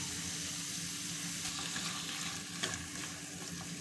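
A frying pan sizzles steadily as salt, red chili powder and turmeric are stirred in for an egg and potato breakfast dish, with faint scraping and clinking over a continuous close hiss.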